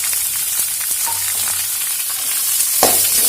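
Chopped onions dropped into a small amount of hot oil for rice kolukattai, a continuous close sizzle and crackle with a few stirring scrapes and a sharper spatter near the end, no voices.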